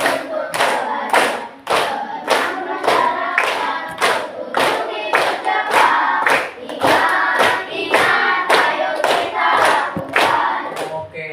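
Classroom of children clapping hands together in a steady rhythmic pattern, about two dozen sharp claps in bursts, loud and close, with faint voices underneath.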